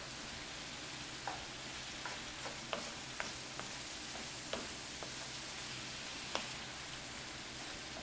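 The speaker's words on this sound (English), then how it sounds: "Now that my hamburger has browned, the onions are nice and soft, and the mushrooms are done" Browned hamburger, soft onions and mushrooms sizzle quietly in a pan for a calzone filling, a faint steady hiss broken by several sharp spatula taps and clicks at irregular intervals, with no one talking.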